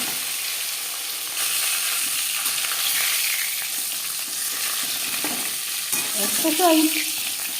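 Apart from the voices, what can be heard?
bata fish frying in refined oil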